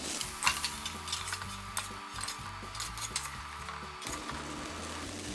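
Pork pieces frying in a pan for a stir fry, a quiet, steady sizzle under repeated scraping and turning of utensils against the pan, close and even throughout.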